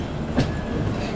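Kashi Mahakal Express rolling along the rails on the Varanasi to Indore route near Kanpur, a steady rumbling rush of wheels with one brief louder swell, heard close and continuous without talk.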